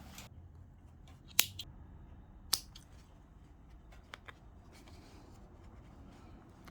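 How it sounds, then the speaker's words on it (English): Stitches on a jeans zipper are unpicked with small sharp snips and ticks, two louder clicks among scattered lighter ones, all close by over a quiet room hiss. "So first I have to unpick the stitching and to take the zip out."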